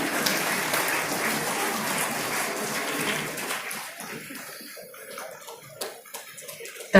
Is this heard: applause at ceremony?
yes